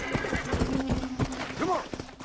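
Horse hooves clip-clop steadily in Red Dead Redemption, with a whinnying neigh near the end, over game music and ambience while voices talk throughout.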